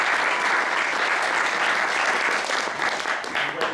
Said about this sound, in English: Let's give yourselves one more round of applause.